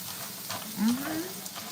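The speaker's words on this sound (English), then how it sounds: "You heard that sizzle?" Vegetables and prawns sizzling and crackling in a hot pan, a steady close frying hiss with faint stirring.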